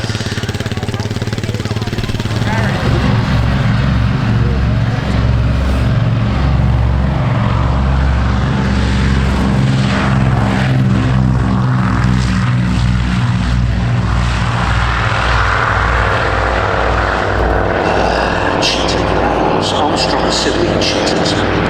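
Propeller aircraft, Grob Tutor trainers of about 420 horsepower each, fly over an airshow with a loud, steady engine drone and a rising and falling pitch as they pass close by.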